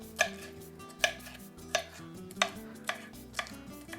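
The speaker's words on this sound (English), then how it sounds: "now we're gonna go ahead and just chop them up" Sharp knife strokes hit a cutting board about six times at an uneven pace as vegetables are chopped, each crisp tap clear and close against a quiet kitchen background.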